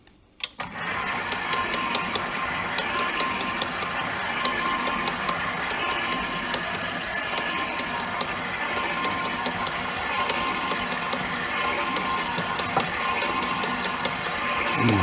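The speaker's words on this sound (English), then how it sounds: "Turn my mixer back on." An electric mixer whirs steadily while beating brownie batter with powdered sugar, a continuous close motor drone with a sharp start and faint rhythmic clicking over fifteen seconds, no speech.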